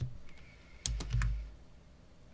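Keys tapped on a computer keyboard while writing C code, a few quick, close clicks bunched in a short burst before falling quiet again.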